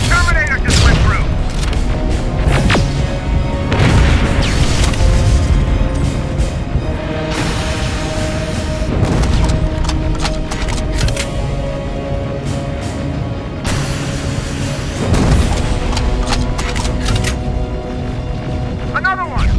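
Gunfire in Terminator: Resistance on very difficult mode: repeated loud booming shots and bursts over a constant battle din, with shouting voices mixed in.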